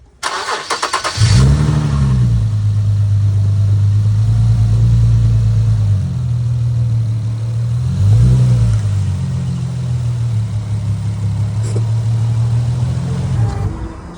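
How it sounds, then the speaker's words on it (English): A Nissan 370Z engine cranks and fires, settles into a loud steady idle, then revs briefly as the car drives onto a makeshift ramp before returning to a low rumble. "I'm going to turn the car on and drive it up"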